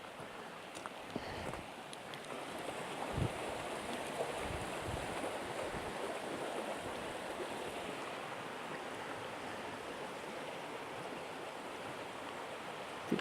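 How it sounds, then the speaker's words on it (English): A big creek, wide enough to look like a river, rushes steadily along a hiking trail through Virginia near Brush Mountain Wilderness, a broad continuous wash of flowing water heard up close with no talk. "we are about to cross a creek, a big creek"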